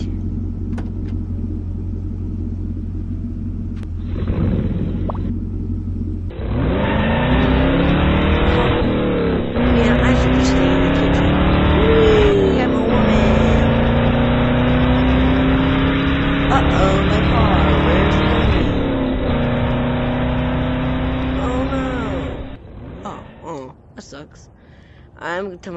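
A car engine in a VR video game revs loud and close, with rising and falling pitch sweeps across a sustained roar that cuts off abruptly near the end, while voices talk over it.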